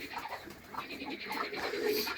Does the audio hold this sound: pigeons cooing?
yes